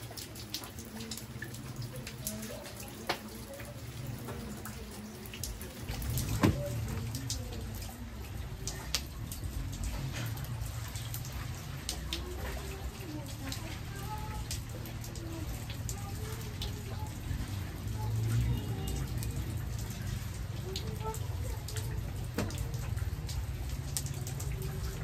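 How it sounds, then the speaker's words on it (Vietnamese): Rain falls steadily on a highland village during the Tet holiday, a constant patter and drip close by, with occasional faint sounds of people nearby. "mấy ngày Tết mà còn mưa thế này này các bác nhé"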